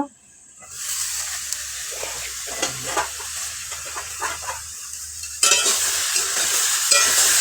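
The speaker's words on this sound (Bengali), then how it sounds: "এবার ঢাকাটা খুলে কিছুক্ষণ নেড়ে দেব" Fish kofta curry masala in a pan, stirred and sizzling loudly and up close, a steady frying hiss with scraping strokes of the spoon that grows louder near the end.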